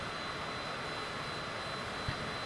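Steady, distant drone of a small airplane's engine in cruise flight over Utah, throttled back slightly, with an even, unchanging hum and no talking.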